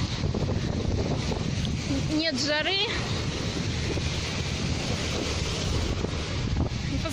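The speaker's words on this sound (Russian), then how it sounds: "Ветер сильный, но он такой просто приятный" Steady, strong wind on the Crimean coast buffets the microphone with a constant roar, a brief voice speaking partway through.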